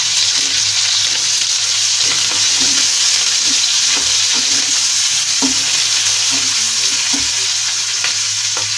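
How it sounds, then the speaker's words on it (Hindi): Onions frying in a kadai with oil, a steady bright sizzle with occasional stirring clinks and scrapes, close and continuous with no voices. "और इसे मैं प्याज को भी भून लूंगी।"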